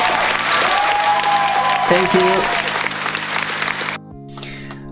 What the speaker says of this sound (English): applause to all of those who submitted the paragraph